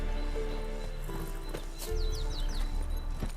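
Roach, a spooked horse in The Witcher 3, clip-clops with hoof falls over a steady game soundscape, giving a faint whinny partway through amid music and ambient tones.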